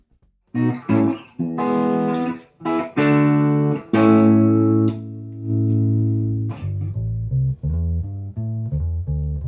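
A distorted electric guitar played through an amp during a studio equipment check, with loud sustained chords and single notes ringing out, then a run of shorter picked notes toward the end.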